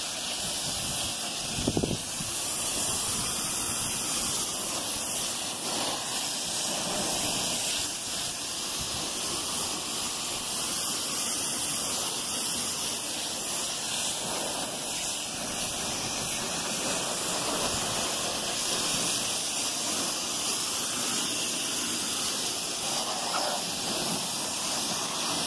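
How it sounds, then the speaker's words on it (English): An air compressor paint spray gun makes a vertical pass of paint, a continuous close hiss over a steady compressor drone that barely changes in level. "We're doing a vertical spray."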